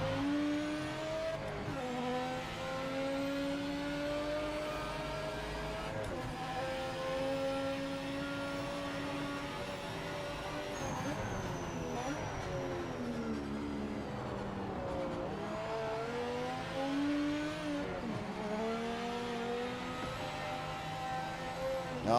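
A race car engine in the video game Project Motor Racing revs continuously, its pitch climbing and dropping through repeated gear shifts as it accelerates and brakes, loud and close throughout.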